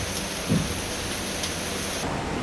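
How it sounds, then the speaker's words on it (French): Steady rain hisses on surfaces of a sailboat at sea, a dense even patter with a brief low thump near the start, no voices. "Il pleut."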